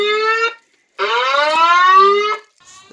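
Outdoors in a backyard, a Federal Signal 950i-S24 alarm gives two loud sustained harmonic blasts with a short gap between them, the second longer, then fades.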